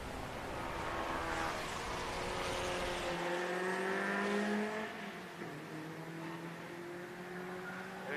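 Race cars, one of them a Miata, scream past on a flying lap at a speed track, engines revving high and then dropping in pitch as they pass by at mid distance.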